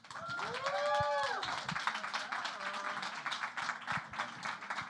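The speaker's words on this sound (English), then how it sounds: "please, warm round of applause for Major." Audience applause for a moderator at a Google-hosted podcasting event, a dense clapping wash that peaks early and then tapers but keeps going, with a brief tonal sweep and scattered voices mixed in.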